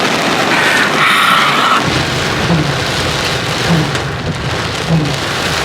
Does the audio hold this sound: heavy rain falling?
yes